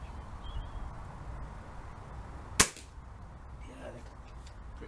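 One sharp shot from an AGS SPR10 custom tuned air rifle with a modified trigger, fired at an outdoor target, cracks out midway through a quiet open-air background with faint bird calls.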